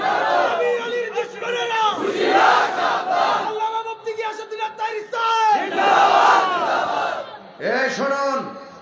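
At a religious sermon, a large crowd chants slogans in loud, rhythmic unison, with repeated shouted phrases rising and falling in waves and short pauses between them.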